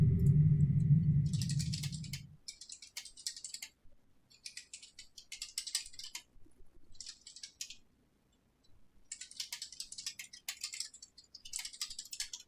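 Clicky computer keyboard typing comes in short irregular bursts with brief pauses, close and fairly quiet, after a low hum at the start.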